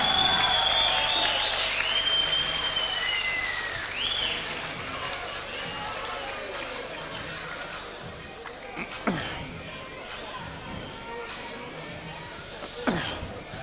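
At a New Zealand heavyweight title boxing fight, the crowd roars and applauds loudly and steadily, with sharper bursts of claps and whistles, while a commentator talks over it.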